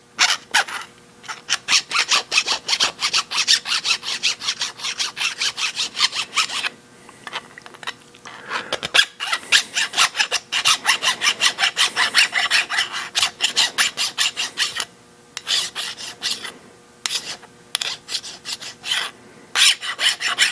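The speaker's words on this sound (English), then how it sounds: "I'm going to deburr that, put that side down." A metal part for a five-cylinder radial engine being deburred with a hand file, steady rhythmic rasping strokes in bursts with short pauses, close and loud, no talking.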